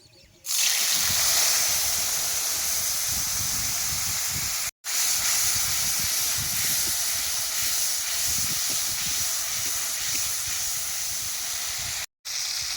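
Spice paste tipped into hot mustard oil with a dried red chilli and nigella seeds for a vegetarian pumpkin-flower dish, bursting into a loud, steady sizzle that holds close and continuous, broken by two brief cuts.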